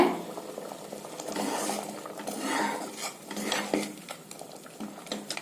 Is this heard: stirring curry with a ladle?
yes